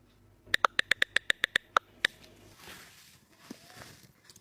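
A phone call's ringing tone sounds as a rapid string of about eleven short, evenly spaced beeps, followed by quiet room noise.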